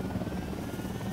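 Steady helicopter rotor drone in the video game Ghost Recon Wildlands, with a low, throbbing hum throughout, no voices.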